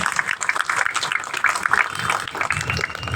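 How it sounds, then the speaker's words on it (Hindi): A crowd at a Shiv Sena Chhath festival gathering claps for new party members with dense, continuous applause, moderately loud, with some voices mixed in. "इनके लिए भी जोरदार तालियां बजाएं।"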